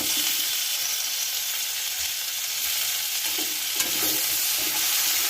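Chopped green chilli and tomato go into a hot frying pan with onion, producing a continuous loud sizzle and hiss with a few soft stirring scrapes, no talking.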